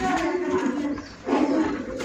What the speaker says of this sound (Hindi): सभी कबूतर हाई क्वालिटी के हैं।